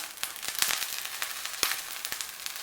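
Butter sizzling and frying in a hot pan for Cameroonian pancakes, a steady close crackle with sharp spitting pops scattered throughout.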